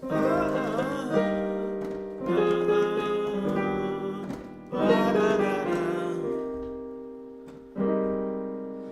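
Rich piano chords, including an altered dominant seventh with a sharp fifth, ring out one after another, each struck firmly and left to sustain, with a few separate attacks over several seconds and no talking.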